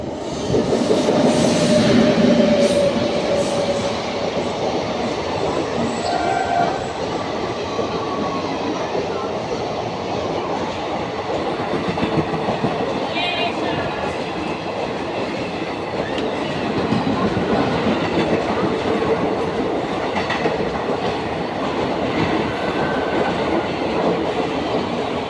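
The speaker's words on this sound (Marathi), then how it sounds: "एक जलद गाड़ी जाने वाली है." An express train thunders through an Indian railway station on a curve: a loud, continuous rumble with rhythmic clickety-clack and faint wheel squeal, and distant voices in the background.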